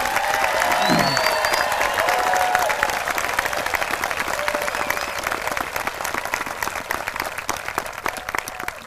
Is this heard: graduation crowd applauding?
yes